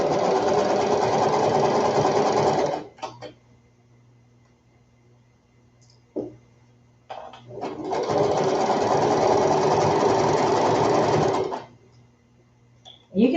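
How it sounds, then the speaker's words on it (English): A sewing machine zigzag-stitches a ruffle onto baby bloomers, running in two long steady bursts of whirring with a quiet pause between them, close and loud. "I'm just zigzagging because I want a finished edge."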